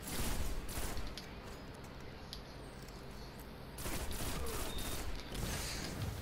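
Trespasser exotic sidearm fire in a Destiny: Rise of Iron Crucible match, a steady run of rapid, loud synthetic shots that thins after the first seconds and then picks back up.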